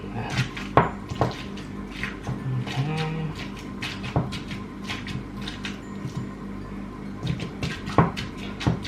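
Fork or masher clacking against a bowl while avocado is mashed for guacamole, a run of sharp irregular knocks and scrapes up close, with faint kitchen background between strikes.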